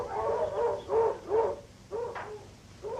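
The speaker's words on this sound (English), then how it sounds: "Why are the dogs barking?" Dogs bark several times in short bursts at moderate distance, the yaps spaced irregularly over a few seconds with no talk over them.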